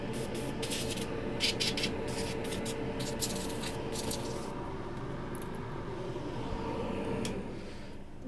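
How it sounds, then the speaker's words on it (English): Compressed air from an airbrush blows steadily through an opened MacBook during repair, a continuous hiss with short sharper bursts, loud and close, with no talking. "so we then blow it out with the airbrush"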